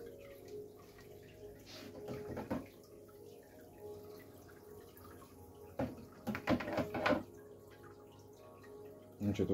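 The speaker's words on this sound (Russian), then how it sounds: "Буду заливать воду до тех пор, пока она не дойдет до метки" Water runs steadily from a hose or tap into an aquarium being refilled, a soft continuous trickle and splash with a few louder bursts of flow near the end.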